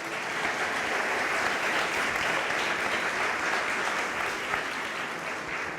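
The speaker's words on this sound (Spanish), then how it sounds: "Dele un aplauso al Señor." Church congregation applauding during a Sunday service, a continuous even roar of many hands clapping, fairly distant and unbroken for several seconds.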